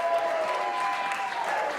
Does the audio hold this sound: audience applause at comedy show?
yes